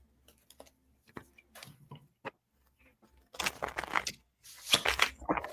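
Tarot cards shuffled by hand at close range, sparse light taps and flicks giving way to brisk riffling bursts, quiet with no talk.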